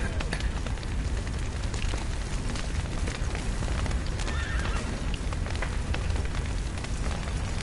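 Horses neighing from burning stables in The Witcher 3: Wild Hunt, whinnies and hoof clatter buried in a loud, roaring crackle of fire and noise that fills the whole stretch.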